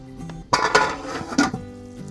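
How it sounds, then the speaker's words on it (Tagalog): A metal lid clanks onto a cooking pot of tinolang manok with chayote, giving a few short clinks and clatters close by, with quiet kitchen sounds before and after. "Tapos po ay tatakpan lang po natin ito para maluto ang ating sayote."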